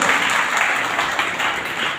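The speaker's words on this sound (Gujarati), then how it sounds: "નીચે આપણે અહીં જે પૂનમના દાતાઓ છે એમને પણ જોરદાર તાળીઓથી વધારશું આપણે" Gathered devotees at a yajna ceremony clap together in a loud, continuous wash of applause that swells slightly and then eases toward the end.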